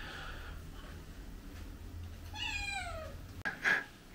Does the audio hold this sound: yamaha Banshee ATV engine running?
no